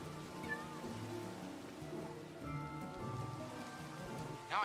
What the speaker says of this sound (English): Where is this cat?